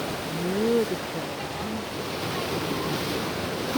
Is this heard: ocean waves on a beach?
yes